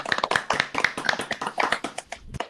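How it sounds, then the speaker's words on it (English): A small group claps for a trivia question writer after a Harry Potter quiz game, a few loose uneven claps ringing out close and sparse rather than a full ovation. "let's all give a round of applause to Erin for those questions"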